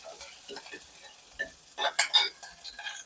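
Curry leaves and two garlic cloves added to hot oil for a garlic kuzhambu, producing a brief crackle and spitting burst near the middle, with light clinks of a utensil and faint stirring around it.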